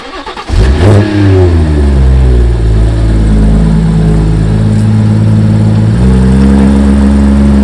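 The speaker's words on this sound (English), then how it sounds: "First thing I need to do is move the car forward a touch" A BMW M140i's engine catches and revs up loudly, then settles into a steady running drone as the car creeps forward a short distance, with a slight rise in pitch near the end.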